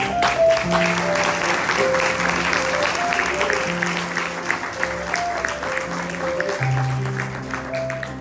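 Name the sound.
congregation applauding in church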